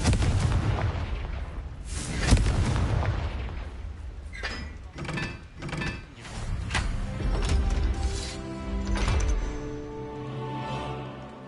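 Confringo blasting spells in Hogwarts Legacy on PS5 set off a run of heavy booms and crackling impacts, some sharp and some rolling, loud and close over about eleven seconds with game effects between them.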